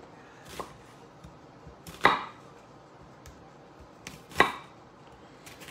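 Kitchen knife working through white onions on a cutting board, sparse sharp chops and taps, two louder strikes with softer ones between, close and alone in a quiet room.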